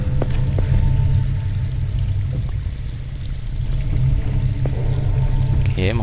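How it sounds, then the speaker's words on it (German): Water flows and pours in the Silent Hill: Homecoming video game, a steady low rushing stream under a droning ambient hum, with faint scattered clanks. "Okay, man kann Wasser hören."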